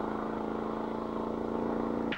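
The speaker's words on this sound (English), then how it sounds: "A wing tank Lakester takes off." Wing tank lakester race car at the Bonneville salt flats speed trials, a steady, droning engine roar held at distance for a couple of seconds, fairly faint and even.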